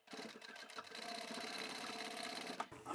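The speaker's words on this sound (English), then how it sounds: "Let's go and sew this up" A sewing machine stitches a 1 cm seam on a tall boxy bag, running in a steady fast rhythmic whir for nearly the whole stretch before a brief stop and restart near the end.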